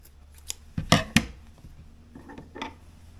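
Several sharp snips of scissors cutting fabric for a camel bag, two strong closely spaced cuts in the middle with lighter snips before and after, close and alone without talk.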